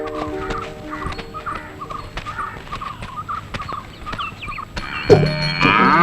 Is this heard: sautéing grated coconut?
no